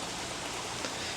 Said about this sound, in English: It's this darn rain.